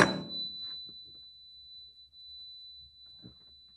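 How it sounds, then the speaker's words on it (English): A small tuning fork struck and left ringing at a high pitch, a thin steady tone that lingers faintly for a few seconds over quiet room noise and soft bumps. "And here's the high pitch sound."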